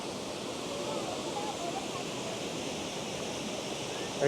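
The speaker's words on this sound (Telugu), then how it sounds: "మొత్తం వాటర్ ఫాల్స్ రష్ మాత్రం విపరీతంగా ఉంది" Rushing waterfalls tumbling between rocks in Germany's Black Forest, a loud, steady broadband roar of churning water filling the whole stretch, close by and unbroken.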